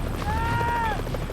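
A helicopter hovering over a glacier in strong wind gives a steady, loud rotor roar, and a brief tonal whine rises above it partway through.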